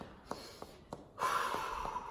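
Heavy breathing during cardio exercise: sharp rhythmic inhales come first, then a longer, stronger exhaling rush of breath. The sounds are close and fairly soft, with no talking.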